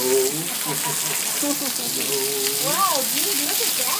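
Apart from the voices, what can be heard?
heavy rain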